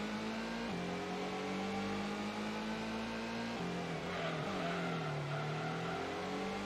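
A race car engine in the Gran Turismo racing game revs loudly and continuously, its pitch climbing and dropping as it works through gears, a steady synthetic whine with no talking.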